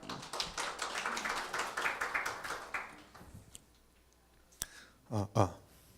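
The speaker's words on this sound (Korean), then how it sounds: "큰 박수 부탁드리겠습니다." An audience at a J-Connect Day 2018 conference session applauds a presenter with a dense round of clapping that fades after a few seconds, followed by a sharp tap and a brief voice.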